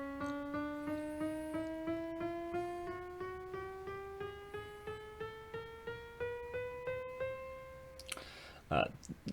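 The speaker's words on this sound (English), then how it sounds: "That's called a quarter tone scale," A quarter-tone chromatic scale climbing steadily on a piano, about two dozen evenly spaced single notes each struck and decaying in turn, fairly quiet and close, followed by a brief rustle at the end.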